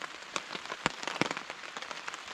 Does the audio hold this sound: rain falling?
yes